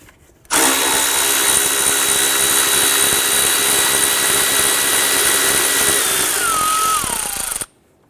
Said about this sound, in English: And remove our 10mm bolt from the back here.